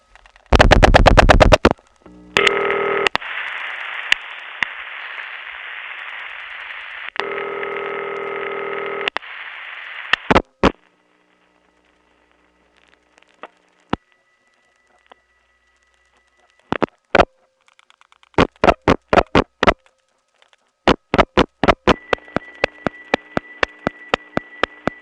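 A 1979 step-by-step 3.5 telephone switching office in Atlanta, with bursts of steady electrical hum alternating with rapid clusters of sharp mechanical ticks and clicks, some sparse, some in quick rhythmic runs.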